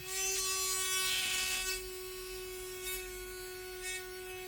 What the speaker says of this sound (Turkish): Orada da motoru çalıştırıyorum.